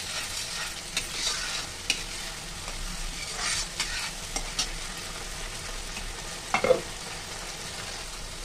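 Tomatoes sizzling in a frying pan for matar paneer while a spoon stirs them, with scattered scraping clinks over a steady close fry and a sharper clatter near the end.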